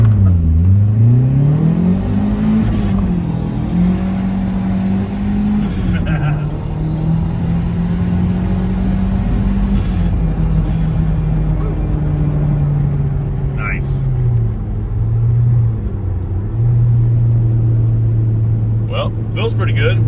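A turbocharged 1998 Honda CR-V with newly installed adjustable cam gears drives with a steady, loud engine drone that rises and falls through gear changes as acceleration builds, with people talking inside the cabin.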